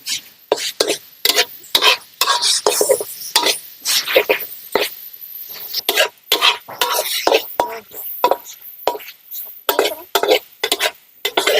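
Minced pork with shrimp paste and a splash of water being stir-fried, heard as loud, choppy bursts of spatula scraping and clattering against the pan, close and uneven, with short silent gaps between strokes.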